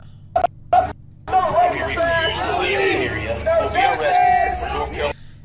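Crowd of protesters gathered past curfew at an Elizabeth City protest over a police shooting, a continuous murmur of many voices and chatter with a nearby voice talking over it.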